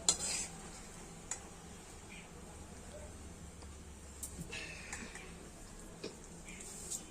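A metal spatula scrapes and stirs oil around a wok for pumpkin flower fritters, giving faint irregular clinks and scrapes over a quiet background hiss, with occasional sharper taps.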